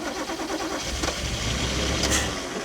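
A Toyota Cressida MX32 classic at a wreckers' yard cranking over, a steady churning starter and engine rumble with a couple of sharper catches, no voices over it.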